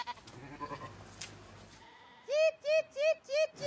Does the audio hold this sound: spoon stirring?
no